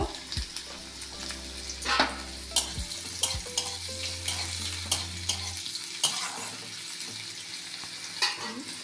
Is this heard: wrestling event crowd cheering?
no